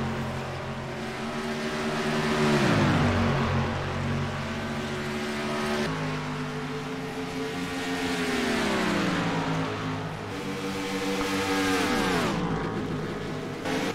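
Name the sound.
stock race cars at Chicagoland in NASCAR video game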